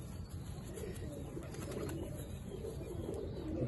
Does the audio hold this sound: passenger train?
no